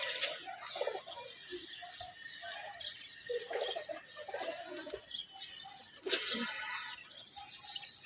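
Pigeons kept by a hobbyist, with soft scattered calls and coos and some wing flutters, fairly faint against a quiet outdoor background.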